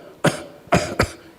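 A doctor imitates a patient's cough with his voice, three harsh, loud coughs close to the listener, the last two coming quickly one after the other.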